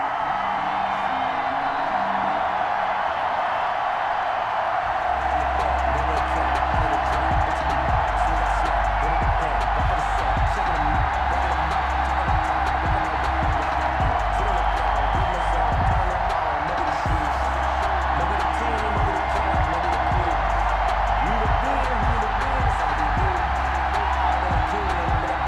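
Home crowd in a Miami stadium in Madden NFL cheering before a Dolphins versus Jets game, heard as a steady, broad roar under the game's play-by-play commentary, continuing for the full stretch.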